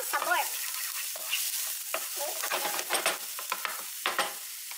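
Onion, garlic and chopped beef picadinho fry together in a pan, a bright sizzle under busy scraping strokes of a spoon, each stir rising in short bursts close by.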